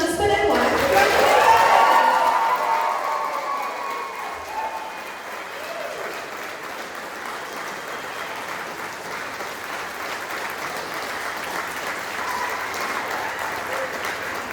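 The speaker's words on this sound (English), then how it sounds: "All of you guys clap as we now pronounce them husband and wife." Wedding guests in the Peterson House Chapel clapping for the newlyweds, a burst of applause with cheering at the start that settles into steady, lighter clapping.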